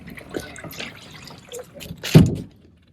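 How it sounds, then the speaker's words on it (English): Water trickles back out of a portable RV waste tank hose attached to the tank's lower bottom fitting, giving a soft dribble that swells into a brief, louder splash near the end. "there was just a little bit of water, if you heard, that came back out again"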